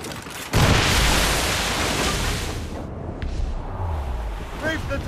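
A ship's cannon broadside roars in Assassin's Creed Rogue, a sudden heavy boom that rolls into a long, dense rush of wind and sea noise before fading under a faint voice.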